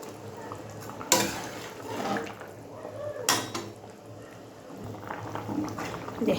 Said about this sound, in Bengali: এবারে ফুটে উঠলে বেগুনটা, এই দেখো এবারে বেগুনগুলো কেটে রেখেছিলাম দিয়ে দিচ্ছি